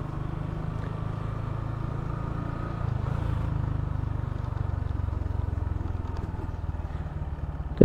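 A motorcycle engine runs steadily close by, a low continuous drone that rises slightly as the bike pulls away after a U-turn, with no talk over it.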